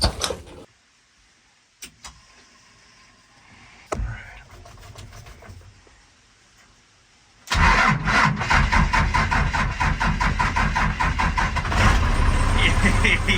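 A few quiet clicks and a brief crank, then a squarebody pickup truck with a freshly recharged battery catches and roars to life, settling into a loud, rough idle.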